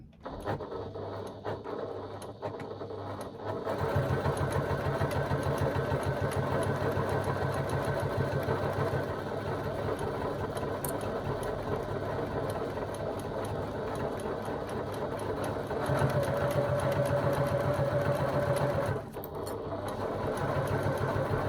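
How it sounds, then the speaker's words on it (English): A sewing machine stitches a seam with a short stitch length, beginning with a brief burst and then running in a steady, close, rapid mechanical whir, pausing briefly near the end before starting again. "Back stitching a few stitches just to secure my stitching"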